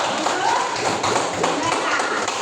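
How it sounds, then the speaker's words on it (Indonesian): A sixth-grade classroom of students claps together in a dense, steady patter lasting a couple of seconds, with children's voices mixed in. "kasih tepuk tangan dulu"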